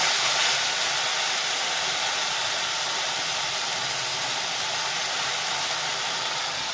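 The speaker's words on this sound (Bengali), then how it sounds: "কষিয়ে নিচ্ছি ভালো করে মশলাটাকে।" Spice paste frying in a pan, a steady broad sizzle and hiss that holds loud and even throughout, with no talk.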